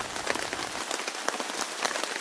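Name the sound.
heavy rain falling on a tarp in the woods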